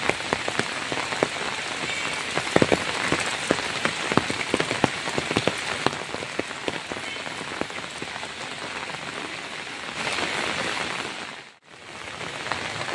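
Steady rain patters densely on surfaces close by during a village flood in Bara Pukhuria, heard under an umbrella, with no voices and one brief dip near the end.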